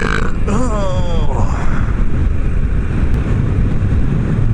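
A long, low guttural burp rumbles on for several seconds, loud and close, with a brief voiced warble at the start.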